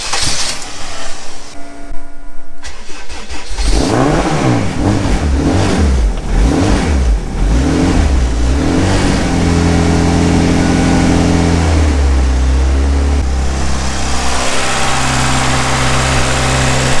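Honda CRX with a full exhaust system fires up on first start, then revs in rising and falling sweeps before settling into a steady idle, loud and close throughout.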